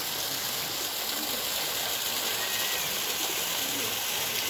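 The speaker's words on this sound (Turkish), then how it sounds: "Ve burada küçük bir dere oluşmuş." Small stream flowing beside an old water mill in Goslar, Germany, a continuous close rushing and gurgling of water with a faint hint of birds behind it.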